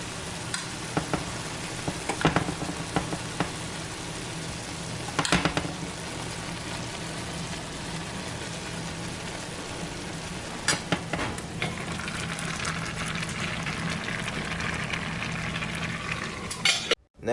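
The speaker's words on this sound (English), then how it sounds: "Just cook the veggies down for a little bit and mix them up" Vegetables sizzling down in a hot pan for soft avocado taco shells, a continuous close crackle and hiss broken by occasional scrapes and clacks of a utensil stirring, with no voices.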